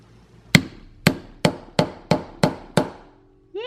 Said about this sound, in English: and then hammer that part in.